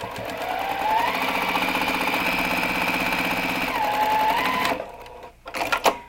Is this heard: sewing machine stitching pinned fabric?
yes